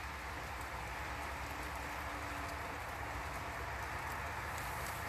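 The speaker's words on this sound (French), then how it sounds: "Maman, la pluie me dérange." Steady, dense rain patters on surfaces at an even intensity throughout, a continuous wash of hiss with no pauses and no voices.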